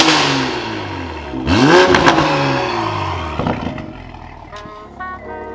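A Toyota Supra MK5 with its exhaust valves open is revved hard: a loud, climbing engine roar that peaks and falls away, followed by a few quicker, lighter blips as it settles back toward idle.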